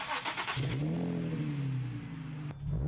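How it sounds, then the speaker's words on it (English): A 21-year-old car's exhaust revs up once, rising and holding a steady throaty drone before dropping off, close and loud with no talk over it. "The exhaust sounds good."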